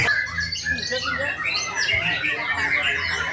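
An adult white-rumped shama (murai batu) calls in a rapid, varied run of loud squawks, whistles and chirps at a bird-song contest, close and continuous, with faint voices in the background.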